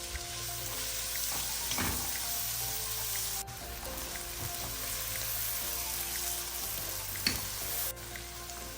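Garlic and onions sauteing in butter over medium heat, a steady close sizzle and crackle with a few louder pops, continuous throughout with no talking.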